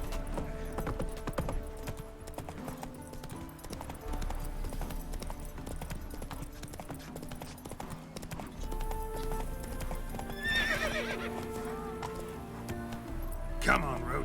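Roach, a horse in The Witcher 3, gallops with steady clip-clop hoofbeats over continuous game music, with a brief flurry of other game sounds near the end.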